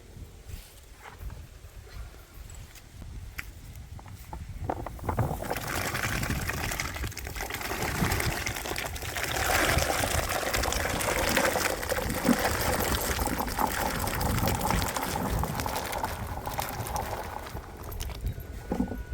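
Small sorted fresh turmeric tubers tipped into water for boiling, a steady splashing, trickling wash of water that starts quietly and grows fuller and louder, continuing without talk.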